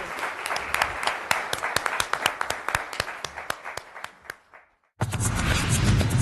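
Conference audience at a CPA Australia not-for-profit event claps in thanks for Dr. Gary Johns, a few dozen hands in sharp, close, separate claps that thin out and stop, then a dense burst of noise cuts in abruptly.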